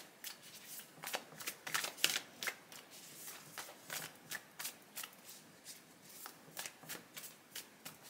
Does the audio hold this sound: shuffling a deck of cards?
yes